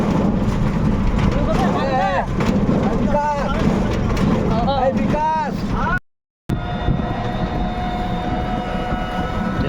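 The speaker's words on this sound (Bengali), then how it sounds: "দেখো, আমরা টোটোতে উঠে চলে যাচ্ছি" Riding in an electric rickshaw, or toto, gives steady road rumble and wind noise, with a few whistling tones and a voice speaking over the ride, then a brief cut to a similar rolling hum.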